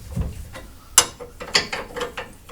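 Ratchet wrench working a 3/4 nut on a second-generation F-body car's front end, with a few sharp metallic clicks and ratcheting bursts spread over a couple of seconds, close and fairly quiet.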